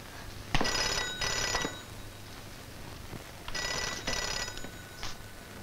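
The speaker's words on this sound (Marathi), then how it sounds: "थांबा, कुणाचा फोन आहे तो बघते." A telephone bell rings in two long double bursts separated by a pause, then a brief partial ring, in a quiet Marathi household scene.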